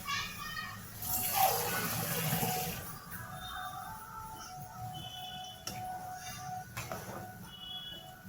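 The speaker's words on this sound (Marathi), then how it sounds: "तुम्हाला केवढा रस्सा हवा त्याप्रमाणे तुम्ही पाणी ओतून घ्या त्याच्यामध्ये" Water is poured into a pan of sprouted moth bean curry with green masala, giving a brief gushing splash that settles into soft bubbling, with someone talking over it throughout.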